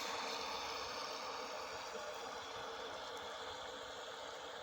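Homemade autopilot bait boat's motor runs with a steady, fairly quiet hum and faint buzzing texture, unchanging and continuous for several seconds, with no voices.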